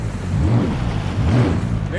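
The 1.8 liter supercharged engine of a 2009 Yamaha FZR waverunner runs on the water, a steady buzzy drone with wind buffeting the microphone and swelling slightly twice.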